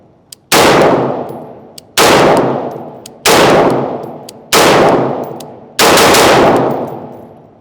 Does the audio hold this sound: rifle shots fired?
yes